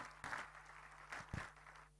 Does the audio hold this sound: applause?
yes